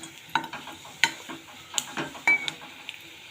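Potato pitha frying in a pan beside a sugar syrup flavoured with bay leaf and cardamom, heard as a soft sizzle broken by several sharp scrapes and taps of a utensil against the pan.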